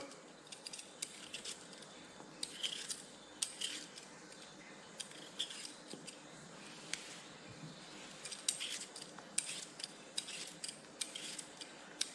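Potatoes being peeled close up, with a run of quiet, irregular scraping strokes and small clicks repeating every second or so.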